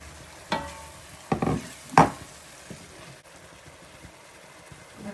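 Diced Scotch bonnets frying with garlic and ginger paste in a pan for goat meat sauce, giving a few short bursts of sizzling and stirring over a low, steady background hiss, with no talking.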